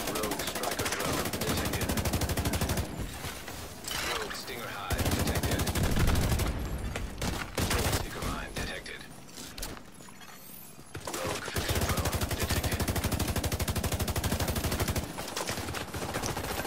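Dense automatic gunfire in The Division 2 video game, long loud sustained bursts of rapid shots with brief lulls between, close and continuous throughout.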